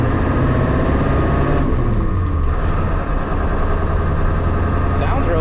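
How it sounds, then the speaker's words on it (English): Ford F350 crew cab from 1995 with a 7.3L diesel idles loudly and steadily nearby, its deep rumble carrying an uneven loping beat, with faint voices underneath. "It does have that loping idle"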